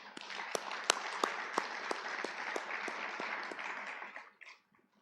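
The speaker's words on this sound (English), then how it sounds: "Please, a round of applause for him." Conference audience clapping for a hotel managers' event, with sharp individual claps standing out over a dense patter that holds steady, then thins and stops near the end.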